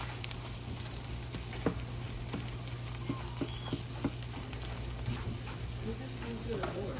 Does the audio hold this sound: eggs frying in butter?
yes